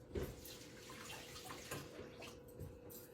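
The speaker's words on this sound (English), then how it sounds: "Let me rinse my hands real quick. I've got soapy water over here." Hands are rinsed in soapy water at a kitchen sink, with quiet running and splashing water heard nearby in a few soft bursts.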